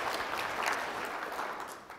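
Audience applause at a keynote talk, a soft, steady patter of many hands clapping at a distance for about two seconds, thinning slightly toward the end.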